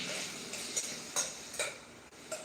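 Onions cook slowly in a pan on their way to caramelizing, a soft continuous sizzle broken by a few light clicks of a utensil stirring against the pan.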